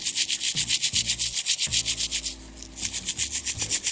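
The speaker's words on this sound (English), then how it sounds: "Rubbing on the wheel, you can see it's looking shinier already" A clock wheel is rubbed by hand to polish it, the close, steady strokes repeating about twice a second in an even back-and-forth rhythm, with a brief pause midway.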